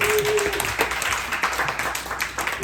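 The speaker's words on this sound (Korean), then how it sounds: "다들 박수로" A church congregation applauding after new youth group officers are named, a dense burst of clapping filling the space at close range throughout the short stretch.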